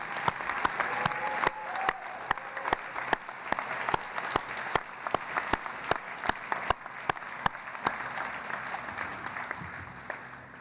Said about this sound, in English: will our honorees and faculty please join me in a round of applause for our audience